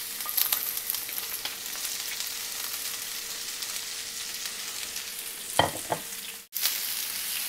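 Onion and capsicum sauté on a hot grill alongside mutton chops, a continuous close sizzle with a few scraping stirs late on and a brief dip and break just before it resumes.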